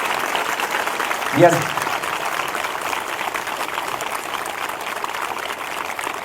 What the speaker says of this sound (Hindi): एक बार फिर से वचन के लिए जोरदार ताली बजाकर प्रभु को धन्यवाद दें